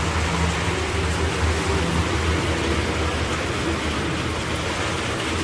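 Heavy night rain falls in Budagumpa as a steady, dense hiss, continuous and fairly loud, with no distinct drops or voices standing out.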